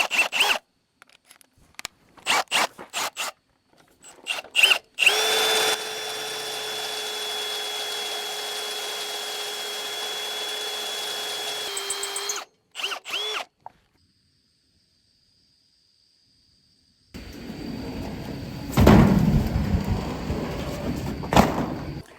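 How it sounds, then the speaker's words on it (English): Bursts of grinding and clattering break into a long, steady high-pitched whine from a step drill bit cutting a metal roof, then a pause and another rough, noisy stretch of drilling. "Let's see what we can do with our step bit."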